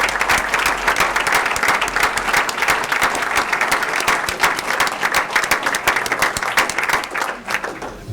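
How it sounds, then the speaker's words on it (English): Dense, sustained applause from a crowd at a school district board of education meeting honoring long-serving staff, a steady rapid patter of many hands that continues for several seconds and eases slightly near the end. "Let's big round of applause."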